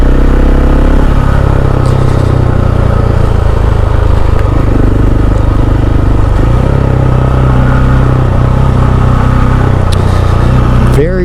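A KTM 690 SMC R supermoto's single-cylinder engine drones loud and close with steady low rumble and slight pitch shifts, continuous for the whole stretch, with wind buffeting and a voice partly over it.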